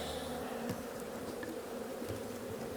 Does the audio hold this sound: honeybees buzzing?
yes